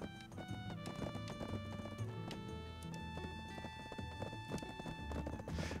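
Horse hooves clip-clopping at a steady walking pace in the video game Black Desert, a continuous rhythmic patter layered over game music.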